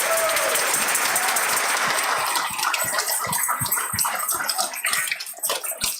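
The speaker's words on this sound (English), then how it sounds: "Let's give Ms. Helmbrecht a round of applause" Steady clapping from an audience at an elementary school spring concert fills the room, dense at first and then thinning into scattered individual claps toward the end.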